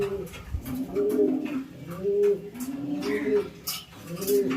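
Racing pigeons coo in repeated soft throaty phrases, close and clear, about one every second, with someone talking intermittently beneath them.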